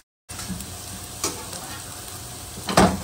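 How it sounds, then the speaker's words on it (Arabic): Garlic fries with browning onions in a pan for chicken puff pastry cups, a steady close sizzle punctuated by a few stirring scrapes, the loudest near the end. "بعد ما بدأ يتحمر عندي البصل أحط عليه توم"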